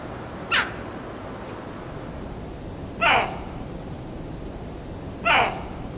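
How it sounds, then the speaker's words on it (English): A jackdaw gives three short, sharp calls spaced a few seconds apart, clear against a steady outdoor background hiss. "Jackdaw sounds"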